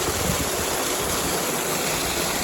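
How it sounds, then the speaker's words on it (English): Water leaks through the side wall of a brick canal lock, a loud, steady rushing roar heard up close with no break. "This side the wall leaks,"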